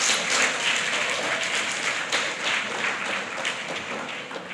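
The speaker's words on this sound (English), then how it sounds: "Can we have a round of applause for them?" An audience at a primary school prize-giving ceremony breaks into steady, dense applause, many hands clapping together at a constant loudness for a few seconds.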